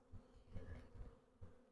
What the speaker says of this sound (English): Looks like half fly, half bee.